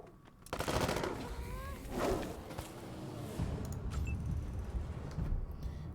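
Turn-based combat gunfire in Wasteland 3 against porcupine-like creatures, with a burst of shots near the start followed by further firing, impacts and creature cries.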